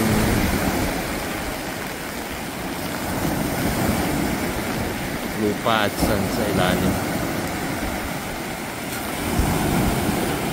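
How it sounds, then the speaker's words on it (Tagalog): Surf breaking on a resort beach at Laiya, Batangas, with rough, brown water stirred up after a storm: a steady broadband wash of waves with some wind, with a person talking briefly over it partway through. "Malakas pa rin ng konti alon, brown pa din."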